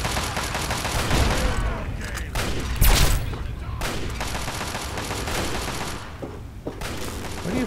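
Gunfire bursts in Fallout 3, a dense, loud fusillade of shots with a heavy blast near the three-second mark, rattling on over a busy game soundscape throughout.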